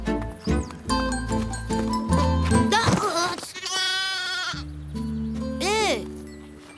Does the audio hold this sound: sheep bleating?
yes